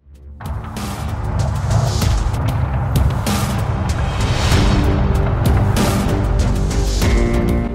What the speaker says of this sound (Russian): Обороты на максимум.